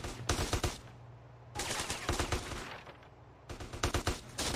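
Gunfire in GTA San Andreas Definitive Edition: repeated loud bursts of rapid automatic shots in three clusters, with a steady background hum between the volleys and no talking.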